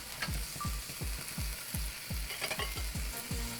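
Broccoli florets, green pepper and carrots stir-frying in a hot pan, a constant sizzle broken by a regular rhythm of scraping tosses about every third of a second.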